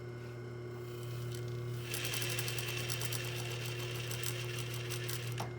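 A sewing machine stitches a shirt sleeve seam after back tacking, starting softly and then running in a steady, fast, close mechanical rattle under a constant low motor hum.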